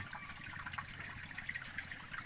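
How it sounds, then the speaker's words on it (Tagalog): Seawater current gushing out from beneath rocks where a natural underground spring outlet meets the sea, a steady, continuous rushing and trickling wash, close and moderately loud, with no talking. "Lakas ng agos to?"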